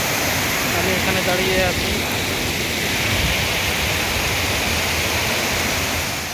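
Water rushing hard over the Tara Dam waterfall at Chakoltore in Purulia, a loud, dense, continuous roar that fills the whole clip, with someone speaking briefly over it.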